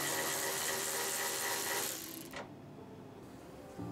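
A 10 mm bolt comes off a GMC Yukon with about two seconds of close, dense ratcheting buzz, then a single click and a quieter tail ending in a brief knock.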